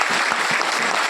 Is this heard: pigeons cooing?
no